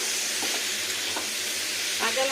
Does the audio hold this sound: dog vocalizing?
no